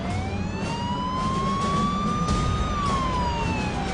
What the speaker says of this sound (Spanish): el coche se nos acercó y encendió la sirena